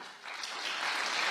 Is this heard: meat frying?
no